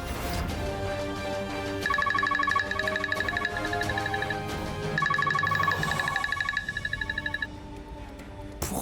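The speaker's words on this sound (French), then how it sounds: "Pourquoi Rani continue-t-elle d'appeler sur le portable de mon frère?" A mobile phone ringing with a repeating electronic melodic ringtone in short looping phrases, moderately loud over faint background sound in a dubbed drama scene.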